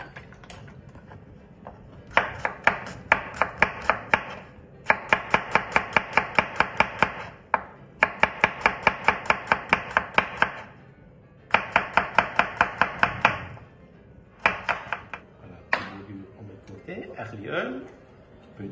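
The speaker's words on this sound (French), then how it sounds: "on va commencer par couper l'oignon" An onion chopped with a knife on a board: quick, sharp, evenly spaced taps in several bursts with short pauses between them, close and alone, then a softer shuffle at the end.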